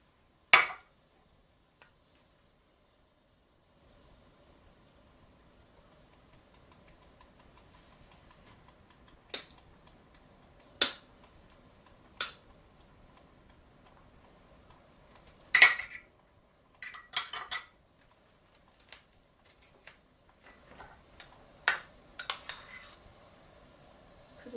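A spoon scrapes and clinks against a glass parfait dish while chilled cranberry chutney is scooped on top: a sharp clink at the start, then scattered taps and soft scrapes over long quiet gaps.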